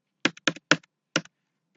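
Four quick bursts of computer keyboard typing, close and crisp, with short pauses between the clusters of keystrokes in an otherwise quiet room.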